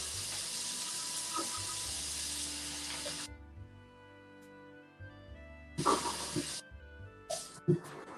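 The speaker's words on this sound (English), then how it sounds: "let's wash our hands" A kitchen tap runs with a bright hissing spray while hands are washed under it. It pauses, then comes back as a shorter burst, with small splashes and clatters close by.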